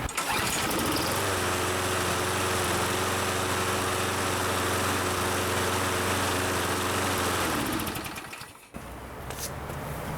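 A Toro Super Recycler lawn mower with a 6.5 hp Briggs & Stratton engine starts on the first pull and runs steadily at close range. It settles into a loud, even drone, then cuts off abruptly near the end.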